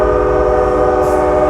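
An Amtrak San Joaquin train led by a 2004 F59PHI locomotive departs Oakland Jack London Square, its horn blaring a loud, sustained chord over heavy rolling rail rumble, close by.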